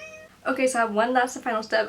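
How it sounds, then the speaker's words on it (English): A pet cat meows in the background near the start, then someone talks over it in a quiet indoor room. "you can hear my cat crying in the background"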